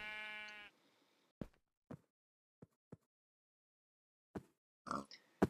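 A Minecraft sheep's harmonic bleat rings out at the start, followed by a few short, sharp clicks and soft thuds in otherwise quiet surroundings.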